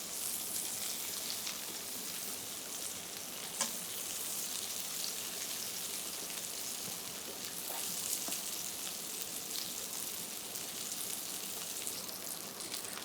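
Turnip pieces sear in a frying pan, one side cooking for five minutes, giving a steady even sizzle with faint crackles and pops, close and continuous with no talking.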